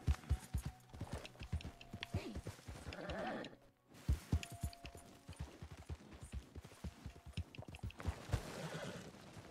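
Horse hooves clip-clop at a steady walking pace in Red Dead Redemption 2, mixed with other game sounds and animal noises, fairly faint overall.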